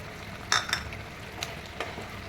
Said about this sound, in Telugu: చికెన్ మొత్తం ఈ గ్రేవీలో కలిసేటట్టు చేసుకోండి